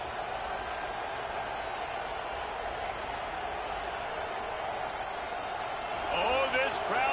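Steady roar of a stadium crowd in an American football video game, a dense continuous wash of cheering that swells near the end as a voice cuts in over it.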